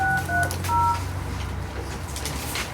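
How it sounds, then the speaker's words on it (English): Touch-tone keypad tones from a mobile phone being dialed at a board meeting, a short run of clear beeps in the first second, then a low room hum. "I'm going to dial on his phone her number."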